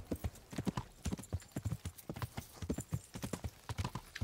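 Horse hooves clip-clop in the medieval game Kingdom Come: Deliverance, a quick steady trotting rhythm of sharp clear hoofbeats, close and fairly quiet, with no talk over them.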